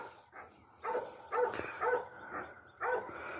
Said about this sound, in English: There's Peppy over there barking at the ground again.